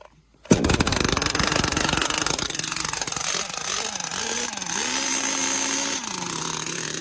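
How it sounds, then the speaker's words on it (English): A small RC car engine with a choke fires up abruptly and keeps running to warm up, a loud, close, buzzing drone whose pitch wavers up and down as it settles, with no talking. "So I'm going to let the engine warm up a little bit"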